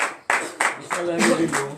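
A congregation claps during a morning prayer service in Benin, giving a few rhythmic bursts of hand clapping at a steady beat, with a voice sounding faintly under the claps.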